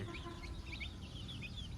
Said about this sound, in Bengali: মুরগির বাচ্চাগুলো যখন খাবার খায় ছোট অবস্থা একটু সুন্দর লাগে